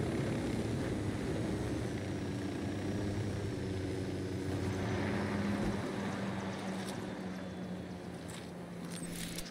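A drone lifts off in the video game Ghost Recon Wildlands, a steady loud droning hum with sustained tonal rotor lines that holds throughout and eases slightly near the end, with no talk.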